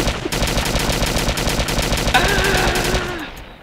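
Rapid automatic gunfire in the video game DayZ, a dense string of loud close shots running without pause for several seconds, with a brief shout partway through.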